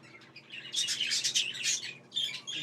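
A spangled normal green budgerigar chirps in a budgie stud, rapid bright twittering in two close bursts.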